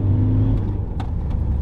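A car passing close by while accelerating, a loud steady engine drone and rumble that fills the short moment, with no voices.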